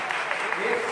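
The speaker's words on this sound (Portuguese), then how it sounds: "Palmas para eles." A crowd claps in a loud, brief burst of applause lasting about a second.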